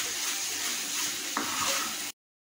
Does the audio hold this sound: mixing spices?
yes